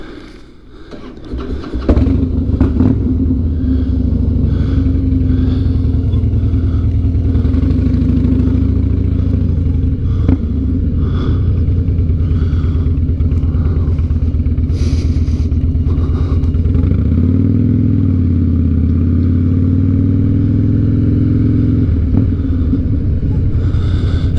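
A Harley-Davidson Night Train motorcycle fresh from a spark plug replacement cranks and starts, then settles into a loud, steady, close-up V-twin idle rumble with a brief throttle blip near the end.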